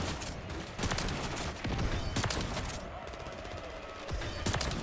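Shotgun blasts ring out in a Call of Duty: Modern Warfare III match, several booming shots among dense game noise and continuous action sounds, with players talking over it.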